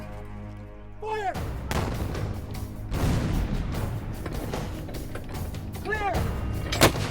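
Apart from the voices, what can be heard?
Civil War artillery cannon fire at Vicksburg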